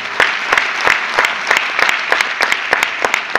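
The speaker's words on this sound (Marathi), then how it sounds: "अपलाईन बद्दल जोरदार टाळ्या वाजवा." Applause from an audience at a Crown Ambassador felicitation ceremony, made of distinct, fairly close hand claps in a loose, steady rhythm that keeps going for the whole stretch.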